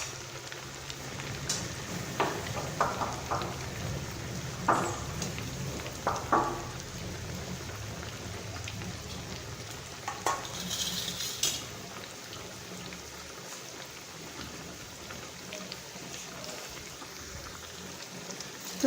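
Paneer cubes frying in hot oil in a pan, a steady crackling, rain-like sizzle running throughout, with occasional clinks and scrapes of a utensil turning the pieces.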